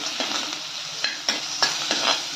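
Cabbage frying in an oiled pan as turmeric is added and stirred, a steady close sizzle broken by several sharp scraping stirs.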